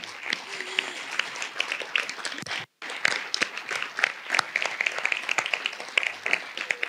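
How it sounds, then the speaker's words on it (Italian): Audience applause at a gathering on emigrants from the Aosta Valley, scattered and uneven clapping with sharp individual claps, a short gap partway through, then more clapping of moderate loudness. "un applauso a voi"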